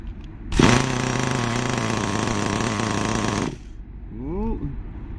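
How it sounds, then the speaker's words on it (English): A nitro RC car engine revs hard during carburettor tuning as the throttle is opened slightly: a loud, buzzing, high-pitched roar holds for about three seconds, then drops to a quieter, wavering idle whine. "Trying a little bit of revs on the controller. It's just opening the throttle gap slightly."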